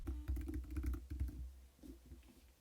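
Someone types a password on a computer keyboard in a short burst of quick, soft clicking keystrokes close by, then a few scattered, fainter taps.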